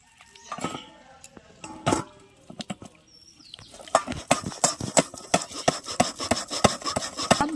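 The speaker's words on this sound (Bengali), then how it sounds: "সব দানাগুলো এভাবে আমি ঘষে ঘষে তালের নোদা বার করে নেব।" Palmyra palm fruit seeds are rubbed by hand to squeeze out the pulp. A few scattered scrapes give way to a quick, steady rhythm of close, wet rasping strokes.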